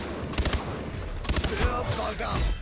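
Bursts of gunfire from the Far Cry 3 video game, several sharp shots in quick clusters at about half-second and one-and-a-half-second marks, with some talk mixed underneath.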